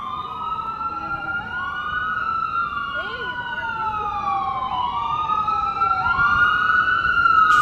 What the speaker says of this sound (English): Regular ambulance activity